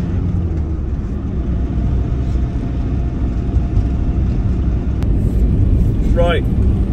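Camper van driving along a road in the Arctic winter, giving a continuous low engine and tyre rumble at a steady level, with a brief high chirp near the end.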